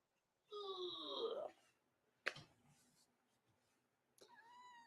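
A pet cat meows up close, first one long, drawn-out meow, then a sharp short call and a rising chirp-like meow near the end, in a quiet indoor room.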